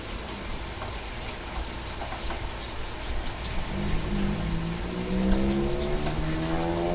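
A motorcycle passes by in the rain, its rising whine and rumble growing louder over steady background noise toward the end.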